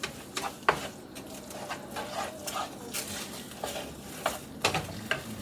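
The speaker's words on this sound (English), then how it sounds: "I'm going to get all of that sauce incorporated into those noodles." Noodles being stirred and tossed with sauce in a pan, giving close, uneven scraping and wet slapping strokes over a soft steady sizzle.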